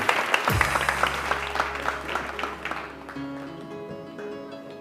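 Studio audience clapping on a televised Hindi morning show, a short burst of applause that starts strong and thins out, with faint tones and musical hum underneath.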